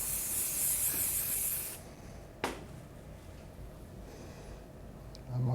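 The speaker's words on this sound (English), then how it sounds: "I would just use a little bit of spray" Hairspray is sprayed onto styled hair: one close, steady hiss lasts under two seconds, followed by near quiet with a brief click.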